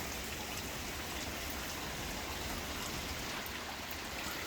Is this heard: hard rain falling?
yes